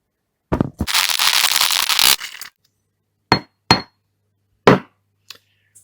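Rock salt and pepper ground together for a historical pottage: a dense, gritty grinding burst lasting about a second, followed by a few sharp isolated clinks and knocks at close range.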